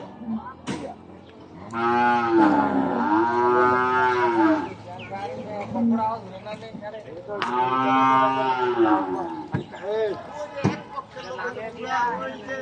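Cattle at a livestock market lowing loudly and nearby, two long drawn-out moos with murmuring voices and market bustle around them.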